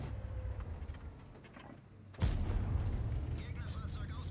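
Tank cannon shot in the online game World of Tanks, a sudden heavy boom that cuts in after a quieter stretch of engine rumble, then rolls on with a loud, low, sustained rumble and battle noise.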